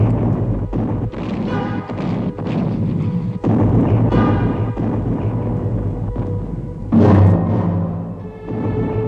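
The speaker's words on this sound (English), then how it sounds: "Already the British bombardment at Arras had begun." Artillery bombardment at Arras in World War I: a dense, continuous barrage of heavy booms and thuds, shells landing in rapid irregular succession, loud and rumbling throughout with a particularly big blast near the end.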